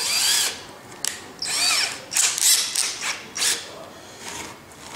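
A power drill cuts a countersink into wood for a mitre box, whining in short bursts close by with rising and falling pitch and brief pauses between them.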